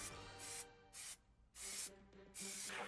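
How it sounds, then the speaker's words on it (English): Three long hissing bursts of Plasti Dip aerosol spray paint, each about half a second, separated by short pauses, close to the listener. "I take my Plasti Dip spray. Then I do several coats."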